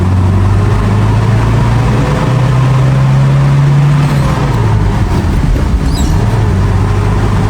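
Toyota HiAce Siyaya van with nearly a million kilometres, its engine droning loudly from inside the cabin, pitch climbing steadily then dropping at a gear change before pulling again, continuous with road rumble.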